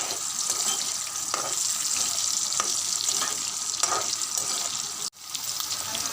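Egg and potato fry in a pan for an Assamese egg gravy, a loud steady sizzle with intermittent stirring scrapes, a brief break near the end.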